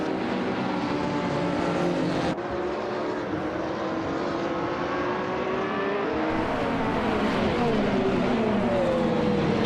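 Toyota Corolla 2015 race car in a racing video game, its engine a steady loud drone that climbs and shifts in pitch as it accelerates, with other cars faintly audible in the background.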